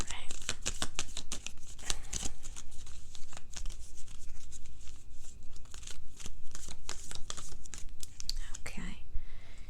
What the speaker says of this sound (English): Oh, these heart oracles. Oh, so challenging to shuffle.